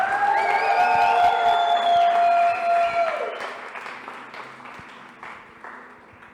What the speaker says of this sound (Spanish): Le damos un fuerte aplauso de gratitud.